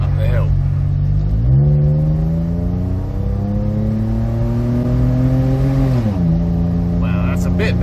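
Toyota FJ Cruiser fitted with a performance exhaust pulls hard uphill, its engine note climbing steadily in a loud, close, continuous drone, easing briefly before surging again near the end.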